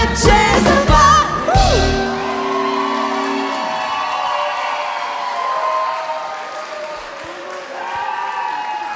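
An audience at a live concert applauds and cheers for a singer after her song, with whoops and shouts over sustained clapping as the last sung notes fade, then the crowd noise settles into a steady, fairly loud roar.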